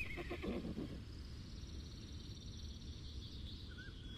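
A horse neighs in the video game The Wild Age, one short whinny at the start, then a quiet ambient background with faint birds.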